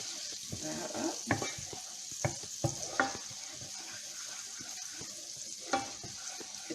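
Garlic sautés in butter in a pan with a steady low sizzle, while a wooden spoon stirs and knocks against the pan now and then, heard up close.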